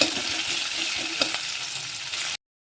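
Chopped onions fry in hot oil with cumin seeds in a pan, giving a dense, steady sizzle with a couple of faint stirring knocks, heard alone before cutting off abruptly.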